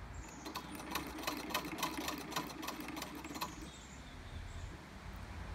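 Restored 1902 Singer Sphinx treadle sewing machine running steadily, a quiet, even mechanical whir with rapid ticking of the needle, close by and alone.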